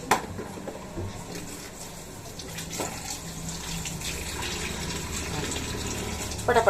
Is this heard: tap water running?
yes